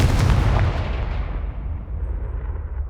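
Confringo fire spell in the PC game Hogwarts Legacy, a single loud, booming blast with a deep rumble that fades and tails off over a few seconds, no voices.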